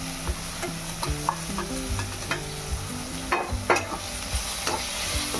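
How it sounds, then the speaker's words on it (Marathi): Green chilies and tomato sautéing in a pan with oil, a steady sizzle under repeated spoon scrapes and stirring knocks, close and clear with no talk. "मिरची थोडी चांगली परतून घ्यायची म्हणजे चांगली खमंग भाजली जाते"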